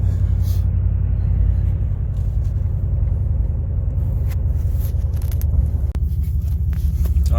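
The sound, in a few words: Ram 1500 exhaust with Doug Thorley catless headers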